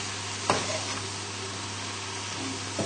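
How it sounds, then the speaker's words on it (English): Cream sauce for a steak dinner bubbling in a pan on the hob, a steady soft sizzle and simmer with a couple of faint spoon clinks. "all we're going to do here is just leave it on the hob just to bubble away"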